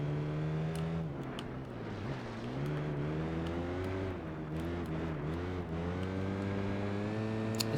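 Lancia Delta HF Integrale engine in the Gran Turismo 4 racing game drones steadily, its pitch rising and dipping with throttle and gear changes, a continuous moderate-level motor tone with no talk.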